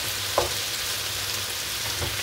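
Green beans frying with garlic in a pan, a steady close sizzle and crackle running throughout with a single faint knock near the start.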